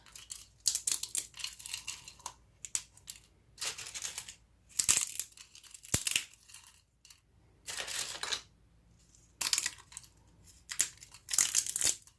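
Dehydrated papaya snapped into pieces by hand, making bursts of close, dry crackling and crinkling with short pauses between them and a couple of sharp snaps.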